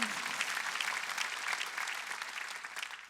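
Church congregation applauding during a Sunday worship service, a steady dense clapping that fills the whole short stretch at moderate, slightly distant level.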